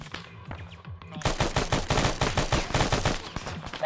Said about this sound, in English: Shit, that is heavy, heavy fire.